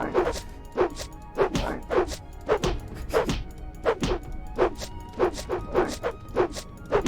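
In the modded game Morrowind, a strange insect-like dog creature makes repeated short, sharp barks or clacks in an irregular rhythm, close and fairly loud, with no talking over them.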